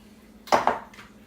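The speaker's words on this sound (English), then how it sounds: "And in the oven they go." Metal biscuit tray set into an oven, a short double clank of the pan against the rack followed by a faint rattle, close and otherwise quiet.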